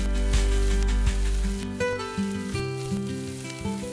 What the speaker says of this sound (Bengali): এবার ভালো করে ওপর নিচ করে নেড়ে চেড়ে নিতে হবে, যেন ভাজা ভাজা হয়।